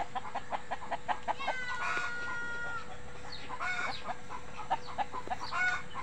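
Backyard chicken coop with hens clucking in repeated bursts, a rooster crowing partway through, and scattered bird calls over steady farmyard ambience.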